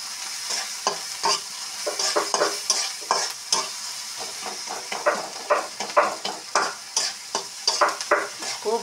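Dried fish frying in a pan with garlic, onion and crushed fresh chili, a close, loud sizzle broken by repeated rhythmic scrapes and stirs of a spoon against the pan, with no voices.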